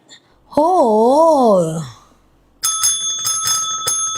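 A bell rings several times in quick succession, bright and ringing, after a wavering electronic tone fades out.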